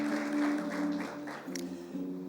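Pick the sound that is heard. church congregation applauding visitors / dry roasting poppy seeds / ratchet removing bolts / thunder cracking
church congregation applauding visitors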